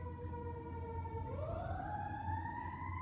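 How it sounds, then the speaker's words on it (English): An emergency vehicle siren passes outside, a steady wailing tone that sweeps upward in pitch partway through, fairly loud and continuous over low traffic rumble, with no talking. "Sorry, siren."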